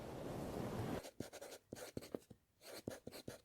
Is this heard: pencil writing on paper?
yes